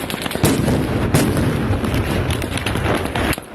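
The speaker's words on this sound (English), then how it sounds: "Flash grenades." Repeated sharp bursts and pops of flash grenades going off amid loud, continuous crowd noise and commotion as crowds are scattered in the streets.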